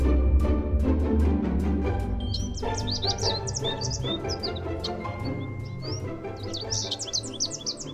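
Robins chirping and trilling in two lively bursts over a steady, rhythmic musical background.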